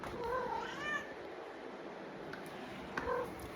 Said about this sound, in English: This is how my cat greets me when I get home every time.